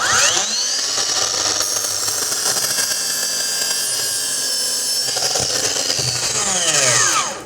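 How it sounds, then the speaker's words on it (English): A saw fitted with an 80-tooth blade cuts through dry pressure-treated hemlock. It sounds as a loud, close, steady whine that spins up, holds through the cut and winds down at the end, with no voices. "Now I have a dry piece of pressure treated hemlock that I'm gonna make 2 cuts on as well."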